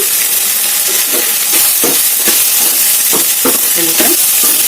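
Okra and onions frying in a pan with salt, a steady loud sizzle running throughout, broken by repeated scraping stirs of a spatula at irregular intervals.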